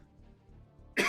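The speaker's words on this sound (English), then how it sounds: "Cough for the last couple days" A single sharp human cough bursts out at the end, close and loud, after a moment of near quiet.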